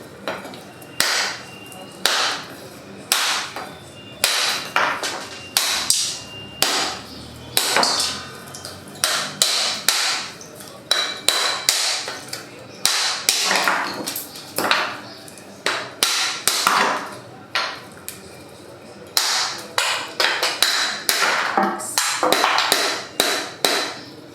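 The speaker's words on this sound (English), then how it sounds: "I'm going to show you how to open your coconut, because today we're going to do it the original style." A coconut is struck repeatedly to crack it open, a long series of sharp, close knocks in uneven clusters with short pauses between.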